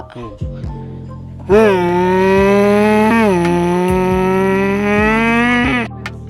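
A voice imitates a motorbike: a loud buzzing engine drone held for several seconds, its pitch rising and dipping like revving, starting and stopping abruptly.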